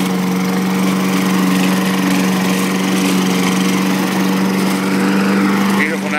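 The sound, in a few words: riding lawn mower mowing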